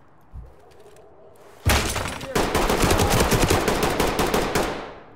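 Rapid bursts of automatic gunfire in the tactical shooter Ready or Not, loud and close, with a thud early on, then sustained rattling fire for several seconds and faint voices underneath.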